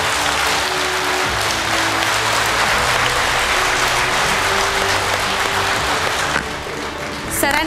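Sustained applause from a large audience at a World Kidney Day talk by a kidney transplant specialist, a dense, steady wash of clapping lasting several seconds before a slight swell at the end.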